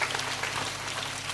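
Audience clapping hands together in a dense, steady burst of applause at a devotional community gathering, moderately loud and continuous throughout with no voices on top.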